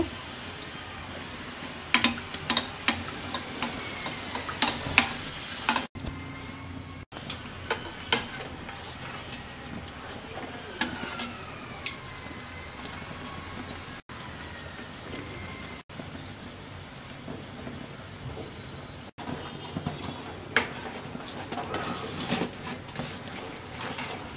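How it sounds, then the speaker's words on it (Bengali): Mughlai paratha fries in hot oil over medium-low heat, giving a soft, continuous crackle and patter with scattered sharper pops and brief clatters of turning, faint and close, with no talk. "তেলটা গরম হয়ে গেছে, আমরা পরোটা দিয়ে দিচ্ছি।"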